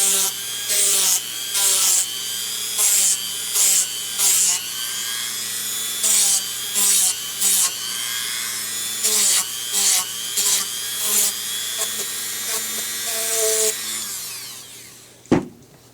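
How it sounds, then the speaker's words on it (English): A Dremel rotary tool grinds a Deathstroke helmet piece in a string of short, close, high-pitched whirring passes with brief pauses, ending in a longer run and a final knock. "you can either probably just take the Dremel and just take it straight to it and just lightly angle it"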